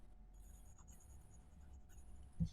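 A sharp pencil scratches across paper in a drawing of a kingfisher bird, a faint, close, papery rasp of continuous strokes, ending with a small soft bump.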